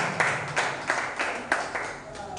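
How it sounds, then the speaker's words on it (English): Audience clapping at a creative writers and readers bootcamp: a brief burst of a few spaced, fairly soft claps over light room tone, thinning out toward the end. "Please round of applause for"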